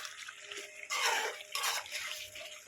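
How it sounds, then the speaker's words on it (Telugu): Water poured into a pan of chicken curry, two short pouring bursts with a splashy wash, close and fairly quiet, with no talk. "బాగా కలిపి ఒక్క నీళ్ళు పోయాలి, కాసిన నీళ్ళు పోయాలి చికెన్ ఉడకటానికి"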